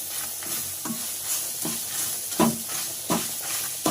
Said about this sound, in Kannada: ನೋಡಿ, ತೆಂಗಿನಕಾಯಿಯನ್ನು ಹಾಕೊಂಡು ಫ್ರೈ ಮಾಡ್ಕೊಳ್ಳೋಣ ನೀಟಾಗಿ.